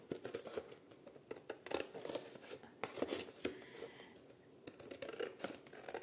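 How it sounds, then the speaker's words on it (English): Scissors snip through a cereal-box carton for a junk journal, a series of close, sharp crunching cuts with short pauses between them, fairly quiet overall. "So I'm going to cut this part too because we don't need that."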